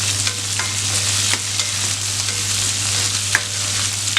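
Chopped ginger and coriander leaves frying in a pan for a chutney, giving a loud, dense, continuous sizzle close up, with a few faint stirring scrapes and a low steady hum beneath.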